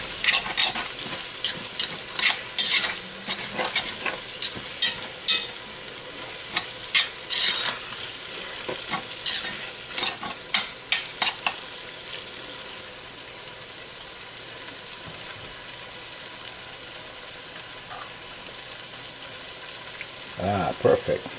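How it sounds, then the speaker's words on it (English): Tomato paste sizzles and gets stirred in a pot for a chicken stew, with bursts of spoon scraping and clatter over a steady fry, then a quieter stretch of soft sizzling toward the end. "we'll cook some tomato paste in there."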